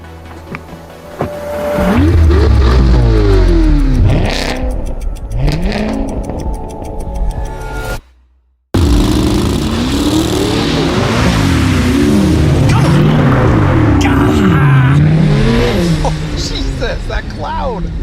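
A mid-engine Corvette launches and accelerates hard, its engine roaring loud and close through rising and falling gear sweeps, with a brief cut of silence midway before the pull resumes; people talk under the noise.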